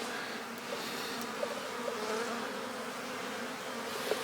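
Winter honeybees stream out of a backyard hive on cleansing flights, a continuous close buzzing drone with individual bees whirring past, no voices.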